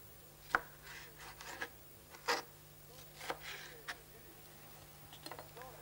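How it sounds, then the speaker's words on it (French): A knife chops on a board in a few sharp, irregular strikes, close and fairly quiet, with a steady low hum underneath. "Je coupe les légumes."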